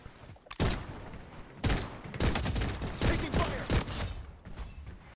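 Desert Eagle pistol fire in the Bloodstrike shooter game, a run of loud, close, rapid gunshot bursts with clattering echoes, one after another with little pause.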